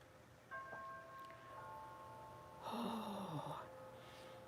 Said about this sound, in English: did you hear that wind chime